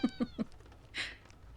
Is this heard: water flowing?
no